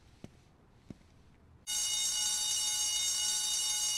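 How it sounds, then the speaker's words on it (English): An alarm in a Spider-Man 2 video game cutscene bursts on suddenly after two faint taps, then rings loud, steady and continuous with a bright buzzing tone. "Guess I'd better check out that alarm."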